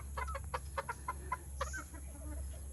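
Chickens cluck in a series of short, sharp calls close by, with a steady low hum in the background and no talking.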